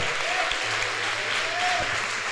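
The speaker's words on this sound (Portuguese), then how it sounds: "Uma salva de palmas para o Senhor." Congregation applauding during a church Easter service, a steady dense clapping that fills the room without a break and carries no talk over it.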